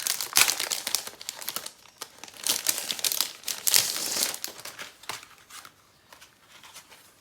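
Plastic sticker packets being opened by hand, with bursts of close crinkling and rustling plastic that come in irregular waves and fade toward the end.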